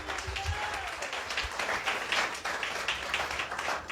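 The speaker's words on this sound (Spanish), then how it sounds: "Le dan una ofrenda de palmas al Señor" A church congregation claps in praise during a Spanish-language service, a dense, moderately quiet patter of many hands with voices faintly mixed in, sustained throughout.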